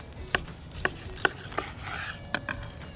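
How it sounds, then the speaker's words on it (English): A knife cutting through a bone marrow encrusted tri-tip on a board, sounding as about six sharp, crisp taps spaced unevenly, close and fairly quiet, with no talk. "I'll slice it once"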